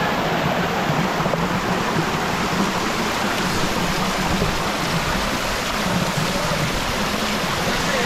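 Turga Falls in Purulia pours in a constant, loud rush of falling water, a dense unbroken roar heard close by with no voices over it.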